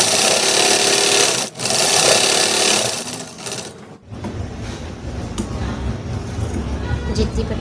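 A sewing machine stitches a boat neck patti in rapid, continuous runs, pausing briefly then resuming with a softer, steadier whirr.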